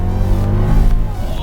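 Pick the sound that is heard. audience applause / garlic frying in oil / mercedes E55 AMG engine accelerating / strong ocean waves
mercedes E55 AMG engine accelerating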